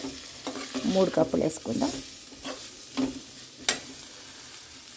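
Curry leaves spluttering in hot oil in a home kitchen pan while making a tiffin dish, soft crackling and sizzling with a few sharp pops, under someone talking briefly near the start.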